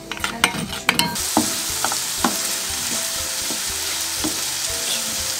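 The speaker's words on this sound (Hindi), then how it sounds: "अब इसमें इसमें मुसलसल चम्मच हिलाएं और इसको गाढ़ा होने तक पकाएं।" A spoon scraping and knocking around a pot, a few sharp clacks at first and then slower scrapes over a steady bubbling hiss, close and fairly loud, with no talk.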